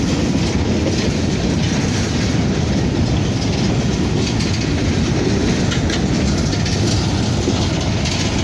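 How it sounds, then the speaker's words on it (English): A westbound grain freight train rolls past close by on the Harrisburg line, a loud continuous rumble of railcars with rhythmic clickety-clack and faint wheel squeal throughout. "Totally grain train here."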